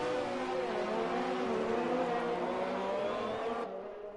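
Racing car engines in a racing video game set on a Vietnam circuit, including an Alfa Romeo, whine at high revs in a continuous, layered drone that shifts pitch as cars run close together, then drops away near the end.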